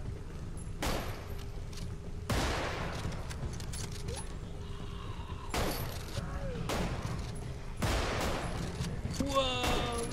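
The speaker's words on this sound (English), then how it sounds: "Let me just use the sniper rounds." Sniper rifle fire at zombies in the game Contagion, four loud, widely spaced booming shots, each trailing into a short echo, over a steady background rumble.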